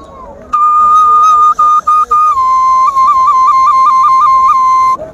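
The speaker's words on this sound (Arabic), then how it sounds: "ده صوت الناي" A handmade ney flute is played up close and loud, a pure steady whistling tone that holds long notes and then moves into rapid repeated note flicks near the end, over a faint background murmur.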